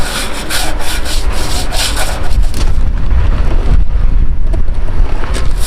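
A brush or pad scrubs toilet bowl cleaner onto a rusty vehicle frame in continuous close, gritty rubbing strokes with a rough rhythmic texture and no talk.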